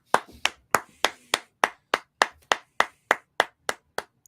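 A small group in a draft room clapping, sharp distinct claps landing in an even, steady rhythm of roughly three per second, close and dry, with no talking.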